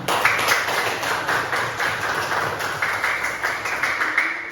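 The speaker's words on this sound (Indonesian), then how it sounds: "Tepuk tangan." A classroom of Indonesian students clap hands together in a steady, continuous burst of applause, close and fairly loud, with no talking over it.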